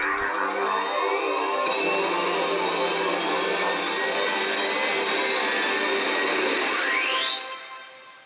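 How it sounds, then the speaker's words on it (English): Flight Simulator 98 installer sound effects play from a PC built in a beer crate: a loud, sustained jet-engine roar that holds steady, then a rising whoosh sweeps upward before it cuts off. "The installer has all these sound effects, which I can really appreciate."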